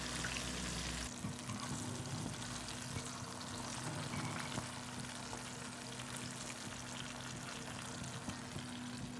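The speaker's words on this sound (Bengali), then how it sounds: "এভাবে সবগুলো মাছই ভেজে সুন্দর করে রেডি করব" Fish fries in a pan of hot oil, a close, continuous crackling sizzle that stays steady and fairly soft throughout, with no voices.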